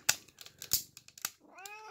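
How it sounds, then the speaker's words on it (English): A cat meows indoors, one short bent meow at the end, after a string of sharp ratcheting clicks from soft ratchet straps being worked nearby. "You can hear my cat back here giving his 2 cents about this."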